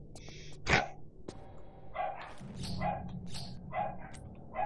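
A dog in the video game Lara Croft and the Tomb of the Gods lets out a series of short, sharp barks and yips, four or five clear bursts over a low game ambience with no talk.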